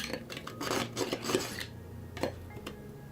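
A knife blade is drawn across a simple sharpener in a quick run of rasping, scraping strokes, then a couple of isolated scrapes, close and fairly loud with no talk.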